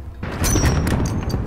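Enemy gunfire in Modern Warfare 2019, a burst of loud cracking shots in quick succession right after a brief quiet lead-in, close and harsh with no voices over it.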